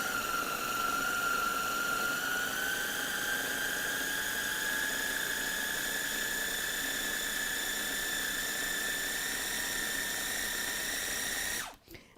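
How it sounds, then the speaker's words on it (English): A food processor whirs steadily while blending sugar into other ingredients, a loud continuous motor whine running for about eleven seconds before stopping abruptly, with no voices over it. "So I'm just going to pulse this a little bit to incorporate all the sugar and get that graininess out of it."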